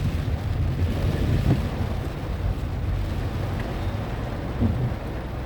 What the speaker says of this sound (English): Raining at the place.